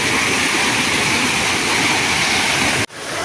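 Close, loud, continuous rush of a waterfall swollen by heavy rain near a house, its steady roar unbroken until a sudden cut near the end, after which the water noise resumes slightly softer.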